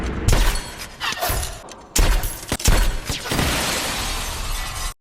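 Gunshots fired at a man named Belikov, behind bulletproof glass, in an action film scene: several sharp cracks and bursts with shattering impacts over dense, chaotic noise, loud and close throughout.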